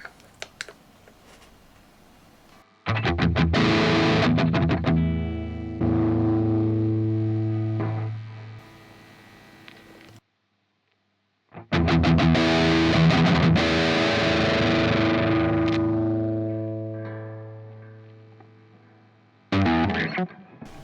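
Electric guitar played through a TS9 overdrive pedal into an audio interface, ringing out in two loud, sustained strummed passages with a gap of silence between them and a brief final chord.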